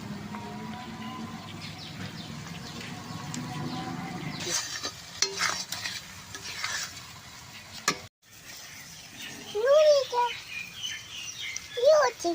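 Masala spices frying in a pan for a village-style crab masala, a soft sizzle with occasional stirring scrapes, fairly quiet, while birds chirp nearby outdoors.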